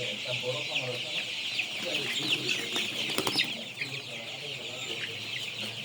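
A flock of broiler chickens clucks and chatters continuously at close range, with a steady dense murmur and a few louder calls standing out.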